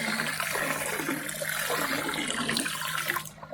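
Ready-mixed Mediclay poured into garden pond water, a short continuous splashing gush of liquid that is close by and runs for a few seconds before cutting off.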